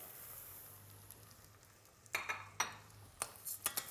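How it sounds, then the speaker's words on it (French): Risotto rice stirred and toasted with browned chopped shallots in a pan for a creamy Vacherin Fribourgeois risotto: a soft steady sizzle, then sharp scraping strokes of a utensil from the midpoint on, close and fairly quiet. "on va aussi bien le mélanger jusqu'à ce qu'il devienne un peu translucide"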